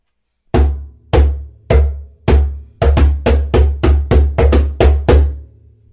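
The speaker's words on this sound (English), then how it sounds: "Here are some bass tones." Deep, booming bass tones struck on a djembe, starting with four evenly spaced hits and then speeding into a quicker run of about eight more, each a low thump that rings briefly, played alone and close.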